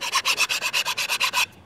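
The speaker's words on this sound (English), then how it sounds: "You just want to let the file do the work." A file rasps back and forth over a wooden AK rifle stock being fitted to a new receiver, about a dozen quick, even strokes in a close, crisp rhythm with no talk.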